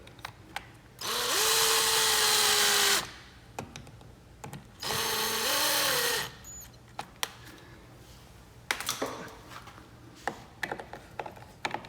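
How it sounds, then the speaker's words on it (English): A power drill drives a screw into a door strike plate during a smart lock installation, whirring in two sustained bursts of a couple of seconds each, followed by scattered clicks and handling taps nearby. "I am going to drive this in with the drill just to save a little bit of time"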